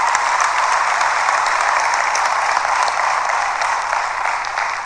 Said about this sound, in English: that deserves a huge round of applause for the entire product team and for all of you fans